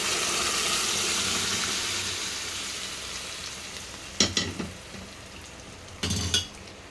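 Cooked dal goes into a pan of Malabar spinach, a steady hiss of simmering that fades slowly, then a few scraping stirs and clanks of a spoon against the pan near the end.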